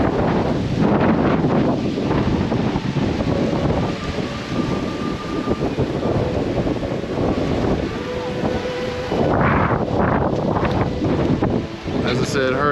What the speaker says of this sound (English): I'm gonna have to wait to set the GoPro down because of how windy it is.